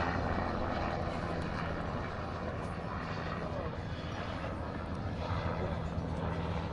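A tour helicopter passes over a mountaintop viewpoint at Guatapé, Colombia, its steady engine and rotor drone loud and continuous with wind rumble throughout.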